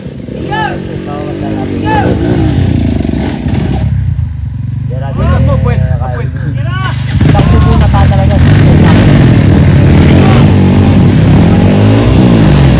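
Motorcycle engines rumble and rev continuously, with people talking and shouting over the loud, close engine noise throughout.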